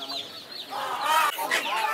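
Chickens cluck and squawk close by at a busy poultry market, with short bursts of calls overlapping and people talking in the background.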